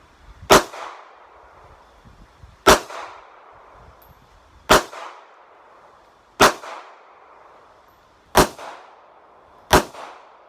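Six pistol shots from an M&P BodyGuard 380 or M&P Shield 9 fired one by one at a target on a range. Each report is sharp and loud, separated by steady gaps of about two seconds, with no talking.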